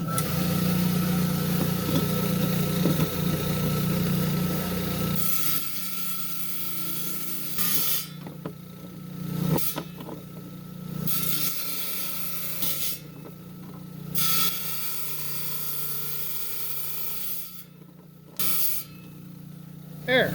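Trim saw slicing through indigo gabbro rock, a sustained buzzing cut at first, then intermittent bursts of sawing separated by quieter gaps as the blade works close to the line.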